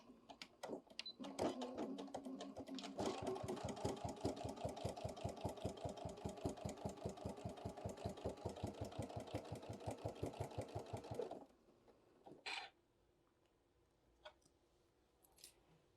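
A sewing machine stitches around a yin yang bag template after a quick back tack, starting with a few short bursts, then running in a fast, even rhythmic chatter of stitches for several seconds before stopping, followed by scattered faint handling sounds.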